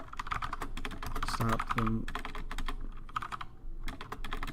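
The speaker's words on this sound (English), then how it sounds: "I'm really good at typing." Fast clacking of keys on a computer keyboard runs steadily throughout, close and moderately loud, while a person talks over the typing.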